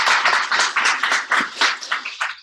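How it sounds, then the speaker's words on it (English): A small audience gives a short burst of close, dense hand clapping that thins out toward the end, with no talk over it. "give her a round of applause"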